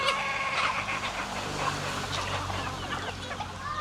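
Backyard chickens cluck and chatter steadily at feeding time, a dense continuous flock sound close by, with faint background noise throughout.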